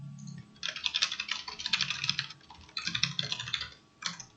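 Rapid typing on a computer keyboard to enter a login ID and password, close and fairly loud, in two quick bursts of clattering keystrokes separated by a short pause, ending with a few final key taps.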